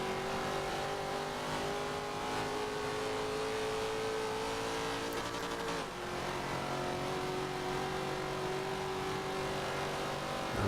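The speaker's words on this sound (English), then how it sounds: "managed to get back on the gas. A little bit of wheel spin" A race car engine in Forza Motorsport 7 drones steadily and loudly under throttle with a slight pitch dip midway, accompanied by some wheel spin and a power-slide drift, without any talk.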